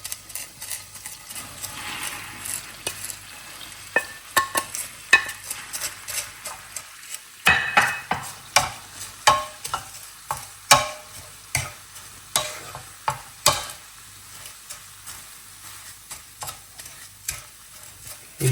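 Kunafa pastry fries in a pan while Dubai chocolate is made at home, giving a soft sizzle under repeated scraping and stirring strokes that come in an uneven rhythm, close by and fairly quiet, with no voices.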